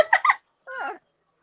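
A person's voice imitates cat noises, a quick pair of chirpy mews and then a short drawn-out meow after a pause, close and clear.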